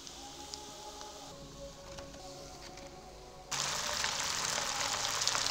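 Vegetable Manchurian balls fry in hot oil with a soft, steady sizzle that swells into a brighter, louder crackling hiss partway through, heard without talk.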